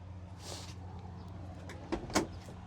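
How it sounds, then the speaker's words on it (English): The door of a 1968 Plymouth Road Runner is opened with a soft latch click, then a couple of sharp mechanical clunks close by, quiet overall with no speech. "Open up the door."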